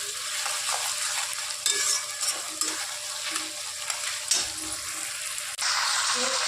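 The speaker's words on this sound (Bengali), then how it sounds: "এই পেঁয়াজ আর ক্যাপসিকামের সাথেই চিকেনটা আমরা তেলের মধ্যে একটু হালকা করে নেড়ে ভাজা ভাজা করে" Chicken stir-fried in oil with onion and capsicum gives a loud, continuous close sizzle, with occasional scrapes and bumps of the spatula as it is stirred.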